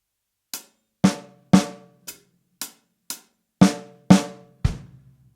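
Nine slow, evenly spaced drum hits on snare and toms, each ringing out and decaying before the next, played alone.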